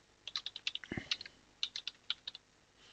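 Keystrokes on a computer keyboard as a project name is typed, heard up close in two quick runs of sharp clicks separated by a short pause, with no talking.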